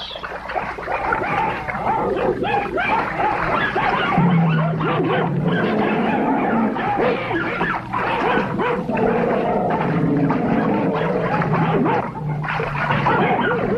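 Several dogs bark, yip and whimper close by and loudly while chasing a tapir swimming across a river, with splashing water beneath the continuous agitated barking.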